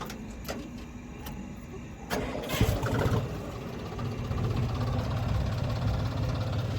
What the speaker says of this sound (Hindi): अब ये फिर आके किया स्टार्ट ट्रैक्टर।